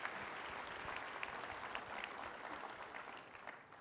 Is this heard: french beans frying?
no